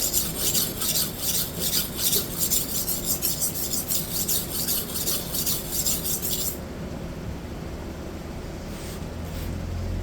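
A knife blade is pressed hard against a sharpening stone to cut fresh bevels, giving a rhythmic rasping scrape of repeated strokes that stops abruptly partway, leaving quiet room tone.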